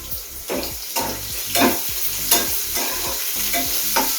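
Five or six small onions fry in the hot oil of a tempering for a mango and amaranth-leaf dal, sizzling steadily up close while a spoon scrapes and stirs the pan in a regular rhythm about twice a second.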